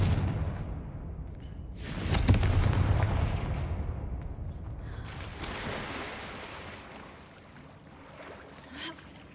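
A Confringo blasting spell cast in Hogwarts Legacy bursts with a sharp, loud explosive crack, then rolls into a decaying rumble with fainter game effects trailing after.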